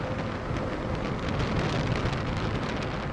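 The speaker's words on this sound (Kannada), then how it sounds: "ಗೈಸ್, ಇಲ್ಲೆಲ್ಲ ಮಳೆ" Steady rain falls at the KRP dam reservoir in Krishnagiri, Tamil Nadu, a constant dense hiss of drops with faint wind and no voices, holding even in level throughout.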